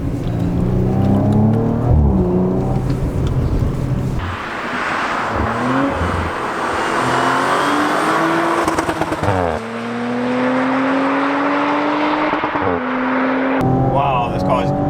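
A 2019 Audi RS5 Coupe in dynamic mode with its exhaust open, the engine rising and falling through gears with crackles and pops, heard from inside while someone talks over it.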